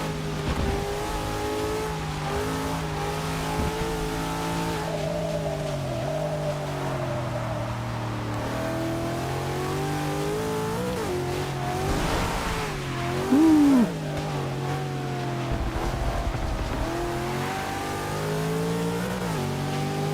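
A 2002 Nissan GTR races in a Forza 6 league event, its engine droning and shifting pitch steadily through gear changes and throttle swells, with a brief squeal near the middle and no talk over it.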